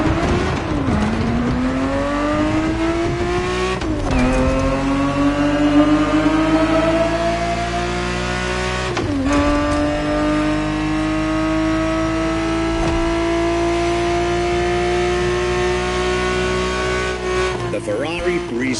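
A Ferrari 365 GTB4 engine from a 1970s-style racing game revs loud and close, climbing through rising pitch sweeps with brief dips between shifts, over a constant background of game music and sound effects.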